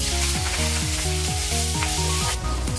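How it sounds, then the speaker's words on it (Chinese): Beef stir-fries in a thin layer of oil in a hot wok, a loud continuous sizzle with rhythmic scraping strokes of a spatula repeating about twice a second, no talk. "锅留底油，先下牛肉煸炒出香味"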